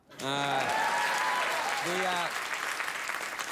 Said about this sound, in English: Just go ahead and clap.